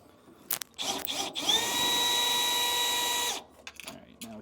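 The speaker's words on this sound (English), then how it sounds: "because my drill is going to fight this the whole way" A power drill whines steadily for a couple of seconds driving self-tapping screws while installing a trailer disc brake kit, bracketed by short bursts and clicks of handling before and after.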